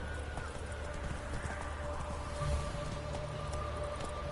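Roach, a horse in a PS4 video game, gallops with steady clip-clop hoofbeats and lets out a neigh, heard over a constant hum of game ambience.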